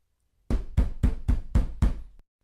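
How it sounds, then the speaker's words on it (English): Six heavy, evenly spaced pounding knocks on a door, loud and close, with no other sound around them. "the sound of pounding on the door"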